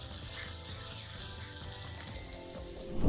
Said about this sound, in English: So we're just going to let this fry a bit